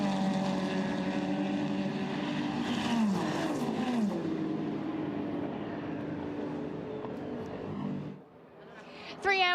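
A race car roars by on a circuit, its engine note sweeping downward as it passes, layered over a steady wash of other racing engines and track noise before cutting away abruptly near the end.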